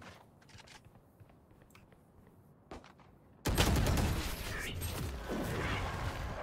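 Video game gunfire erupts in a sudden loud burst of rapid shots after a quiet stretch with scattered faint clicks and a single sharp pop, the dense firing continuing to the end.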